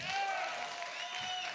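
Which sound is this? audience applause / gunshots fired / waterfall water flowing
audience applause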